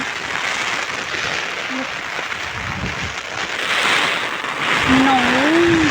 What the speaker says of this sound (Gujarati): જો કેટલો બધો વરસાદ છે